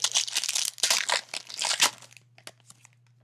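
Plastic wrappers on football trading card packs crinkle and tear loudly and close-up for about two seconds, then fall to a few sparse rustles against a low steady hum.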